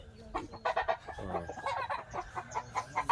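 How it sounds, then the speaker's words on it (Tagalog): Chickens cluck busily and continuously, several birds close by, with overlapping short calls and occasional louder squawks. "Marami silang manok dito."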